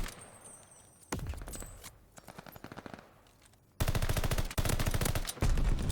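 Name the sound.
gunfire from the spud gun in the video game Call of Duty Vanguard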